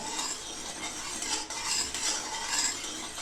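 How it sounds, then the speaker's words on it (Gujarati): Sugar syrup bubbling steadily in a pan for peanut barfi, a continuous close hiss and crackle with faint scraping, no voices. "જો આપણી ચાસણી સરસ ઉકળે છે."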